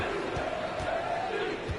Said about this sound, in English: This Houston crowd hoping to watch their Rockets come out on top.